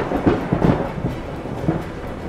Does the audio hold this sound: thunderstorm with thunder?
yes